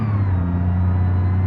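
Fuel truck engine in BeamNG revving, a deep steady low drone with strong rumbling harmonics, close and loud, holding for a short burst.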